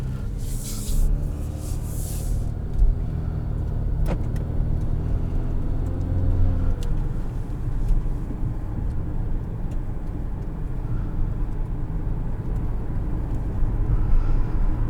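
Cabin sound from inside a 2022 Infiniti QX50 on the move: a steady low road and engine hum, with brief rising tones early on and scattered clicks.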